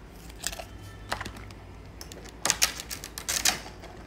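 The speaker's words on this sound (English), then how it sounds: "wanna hear this sound, guys? It sounds like a scratch." Dry scratchy clicks and rasps from a small plastic McDonald's toy, in short irregular bursts with a busier cluster near the end, fairly quiet.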